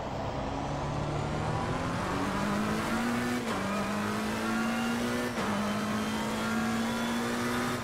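A McLaren 720S GT3 race car in a racing video game, lapping Donington, holds a loud, continuous engine drone that climbs steadily in pitch, with two brief gear-shift breaks and no talking.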